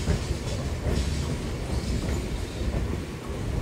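MEMU train pulling out of Rajahmundry station, a steady close rumble of wagons with faint clickety-clack over the rails.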